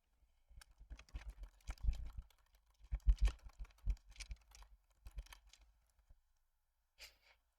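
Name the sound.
computer keyboard typing clicks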